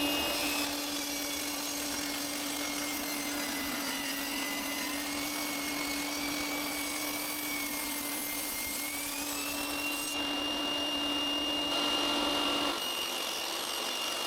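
A power saw runs steadily, cutting scrap wood into 3 mm thick strips for inlays on a serving tray, a continuous whining drone with a shifting pitch and no talking.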